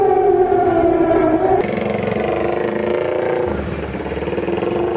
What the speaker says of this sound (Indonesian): Ini adalah alarm early warning system.